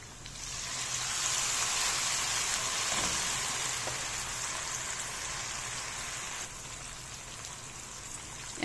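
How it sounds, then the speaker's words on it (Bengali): A little water poured into hot oil with browned frying garlic sets off a steady, loud, close sizzling hiss that holds for several seconds and eases slightly near the end. "এখন দিয়ে দিব সামান্য একটু পানি।"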